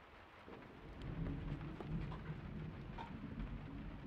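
Steady rain with low rolling thunder in the survival video game Miscreated, a continuous downpour hiss with deep rumbles swelling underneath, no voices.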